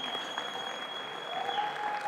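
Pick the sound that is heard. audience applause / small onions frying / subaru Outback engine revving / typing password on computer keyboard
audience applause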